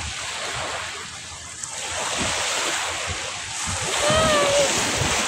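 Waves wash steadily onto Ting Kau Beach, a broad continuous surf roar with wind buffeting the microphone, fairly loud and close, while a faint voice and a brief whistle-like sound rise near the end.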